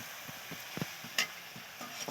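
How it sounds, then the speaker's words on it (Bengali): Shredded potatoes deep-fry in hot oil for crispy jhuri aloo bhaja, giving a soft continuous sizzle and hiss with light stirring scrapes and a few sharper clinks. "দেখো আলুটা আমার ভাজা হয়ে গেছে, বুজবুজিটা কম হয়ে গেছে"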